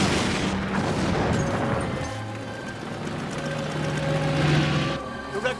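A heavy weapon fires in a military action film, giving a rumbling boom and a sustained roar of blast and debris, loud and close with no clear speech.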